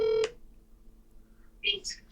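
A telephone dialing out on a call: a short electronic tone at the start, a quiet pause, then a couple of brief higher electronic blips near the end.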